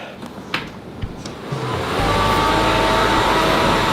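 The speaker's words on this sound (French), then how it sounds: "la veste avec des ventilateurs pour se rafraîchir en été" Small built-in fans of a summer cooling jacket start up and settle into a steady, loud whirring drone after a few faint clicks and rustles.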